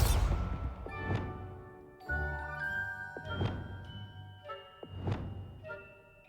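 Explosive Bombarda spell impacts in the Hogwarts Legacy video game land as a series of bright crashing bursts with ringing, tinkling tails, about four blasts spaced a second or so apart over a layered musical bed.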